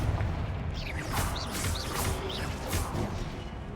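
Confringo blasting spell cast in the video game Hogwarts Legacy, a run of whooshing, crackling bursts with booming low thuds repeating about every half second to second over a steady, dense game soundscape.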